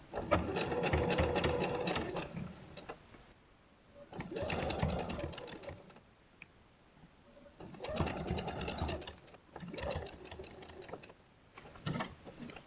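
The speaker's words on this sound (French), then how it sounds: "je viens coudre à 1 cm du bord puisque c'est la marge de couture que j'ai définie précédemment" A sewing machine stitches a fabric inlay seam at a 1 cm allowance, running in four loud, close bursts of rapid whirring stitches separated by short pauses.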